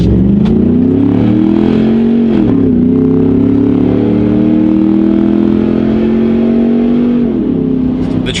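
A 6.2-liter V8 Ford F-150 pickup accelerating hard: a loud, close engine roar climbing in pitch, a brief dip as it shifts, then a long steady pull that drops back near the end.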